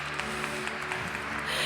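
Applause from a church congregation during Mass, a steady, moderately faint wash of many hands clapping that runs for the whole short stretch without a break.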